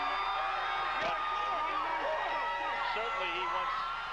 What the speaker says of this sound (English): very boisterous, sold-out crowd